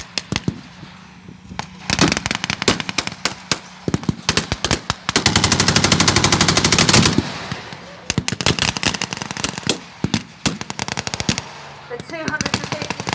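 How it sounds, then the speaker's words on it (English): In a WW2 battle scene, .50-cal machine guns on an American half-track fire loud, rapid bursts, with sharp, dense volleys and a sustained long burst in the middle, plus scattered crackling shots in between. "machine guns on top of the American half-track are wreaking havoc across in the German lines."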